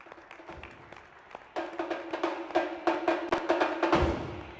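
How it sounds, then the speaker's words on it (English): An audience at the DSCI Excellence Awards ceremony claps after a winner is announced: a few scattered claps at first, then a denser run of close, uneven claps that grows fuller toward the end. "Audience, keep the applause coming"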